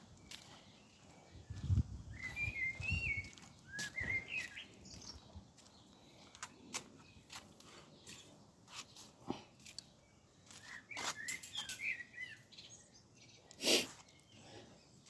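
Birds at an outdoor bird feeder give scattered chirps and short tweets, faint to moderate, amid footsteps and rustling, with occasional louder knocks and sharp clicks breaking in.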